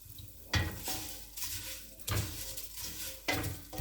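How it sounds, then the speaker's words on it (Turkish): Vermicelli being roasted in olive oil for chicken soup, stirred with a spoon that scrapes the pot three times in a slow rhythm over a faint sizzle, no talking. "Şimdi şehriyamızı kavuruyorum"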